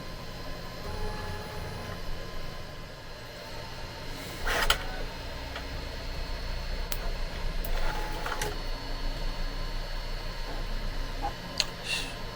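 Bambu Lab A1 Mini 3D printer running a flow calibration gives off a quiet, steady mechanical hum with occasional faint clicks and a short louder whirr partway through, and no one speaks.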